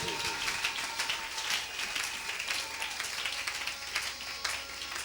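A church congregation applauding to acclaim Jesus, producing a steady, dense wash of hand clapping from many people that holds at a moderate level throughout, with faint voices mixed in.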